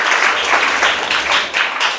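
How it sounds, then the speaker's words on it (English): Loud, close audience clapping at a senior high school old students' homecoming forum: a dense, continuous wash of many hands, steady with small swells, and no speech over it. "So let's clap for him."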